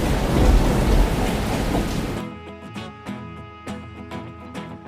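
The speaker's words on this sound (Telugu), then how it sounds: "సుమారు 2 రోజులుగా ఉరుము మెరుపులతో భారీ వర్షం కురిసింది." Heavy rain pours in a dense, loud hiss for about two seconds, then gives way to a softer downpour punctuated by several sharp cracks of nearby thunder.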